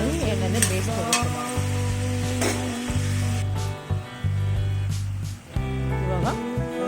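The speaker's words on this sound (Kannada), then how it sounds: "ಟೊಮೊಟೊನ ಎಣ್ಣೆಲ್ಲೇ ಹುರ್ಕೊಂಡು ತುಂಬಾ ಫ್ರೈ ಮಾಡಬೇಕು." Tomatoes fry and sizzle in hot oil in a pan for onion-tomato chutney, a steady close hiss broken by scraping stirs, with a constant low hum throughout.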